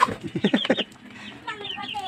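A Black Australorp heritage chicken clucks in a quick burst of several short calls, then a softer, drawn-out cluck follows, close by.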